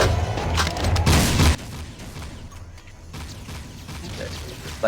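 Turbo cannons firing in Jak 3 within Crimson Guard territory: a rapid volley of heavy booming shots for about a second and a half, then quieter ambience with faint distant thuds.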